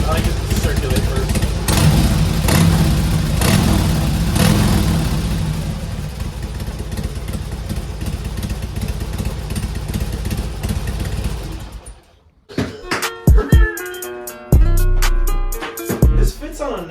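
A Harley-Davidson Dyna motorcycle fitted with a Bassani exhaust rumbles loudly and close, holding a deep steady idle for about twelve seconds before a sudden drop and a few sharp revs.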